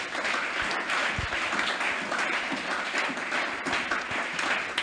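A church congregation applauds throughout a French-language service, a dense, steady roar of many hands clapping at once, loud and continuous from start to finish, with no voice standing out above it.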